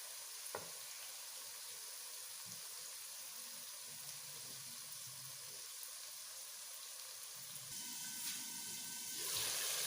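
Green chickpeas fry in hot ghee, a soft, continuous sizzle with faint crackles, growing a little louder and brighter near the end as the mix is stirred.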